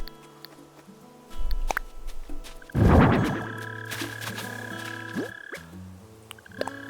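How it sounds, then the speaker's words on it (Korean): Frog croaking in the video game Animal Crossing: New Horizons, a few loud throaty croaks that come close after one another alongside light game music and chimes, with no talking over them. "개구리까지 키우고"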